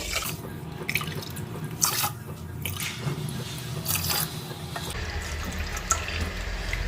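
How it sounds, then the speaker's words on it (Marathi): Water from a measuring cup pours and splashes onto rice in an electric cooker pot in several bursts, with dripping and sloshing between pours, close by. "आता यामध्ये मी पाणी टाकते मेजरिंग कपनेच पाणी टाकते"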